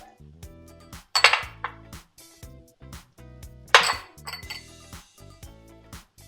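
Spices being stirred into red wine braised beef short ribs in a pot: soft scraping broken by two sharp, close metal clanks of a spoon against the pot, with no talking.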